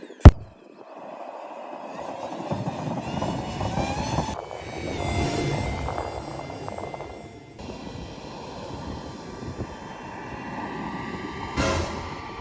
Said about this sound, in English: Actually, the jet engine works really well